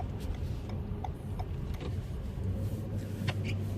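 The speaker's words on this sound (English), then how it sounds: "So the vehicle's warming up right now" A 2018 Toyota Camry SE Hybrid warming up idles with a low, steady engine hum and faint cabin rattles and ticks, heard from inside the car without talk.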